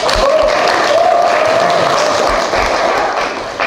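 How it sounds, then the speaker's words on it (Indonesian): A classroom of students claps loudly and continuously, a dense, even applause throughout with faint voices underneath. "Tepuk tangan betul."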